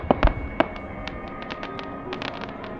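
Fireworks burst at the Fuji Speedway fireworks festival, a quick cluster of sharp cracks followed by a rapid series of crackling pops fading into a steady background hiss.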